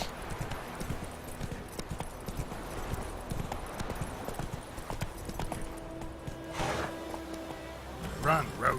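Horse hooves clip-clop at a run in The Witcher 3, with a whinny near the end, while someone talks over the steady galloping rhythm.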